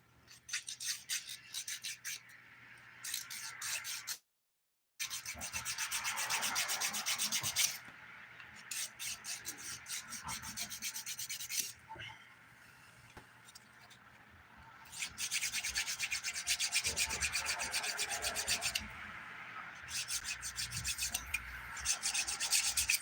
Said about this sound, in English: Filing time.